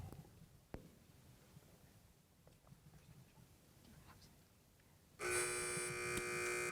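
After faint ticking from a countdown clock, a loud sustained electronic quiz buzzer blares for about a second and a half during a Hi-Q quiz match.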